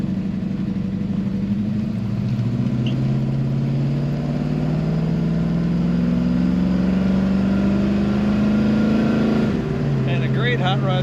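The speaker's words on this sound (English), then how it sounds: "Hot rod sound." A 1937 Ford street rod convertible's engine drones steadily while driving, a low rumbling hum that rises gradually in pitch as it accelerates, then drops briefly, loud and close throughout with the engine note continuous.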